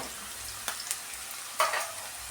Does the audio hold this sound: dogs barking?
no